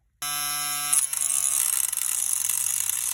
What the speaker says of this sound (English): We use our diamond blade cutting tool tips, and we'll put the safety goggles on and we'll see if we can cut a nice slot in these screws